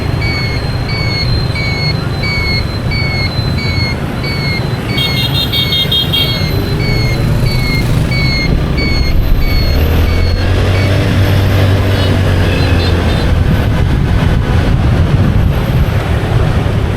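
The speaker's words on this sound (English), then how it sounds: "showing you a bit more of the traffic" Constant dense roar of Saigon city traffic, engines and motorbikes close by, with scattered horn toots cutting through the steady rumble.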